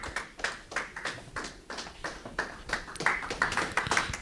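A congregation claps in a steady, even rhythm during a Christian church service, a crisp repeated beat of hands a few times per second with no voice above it.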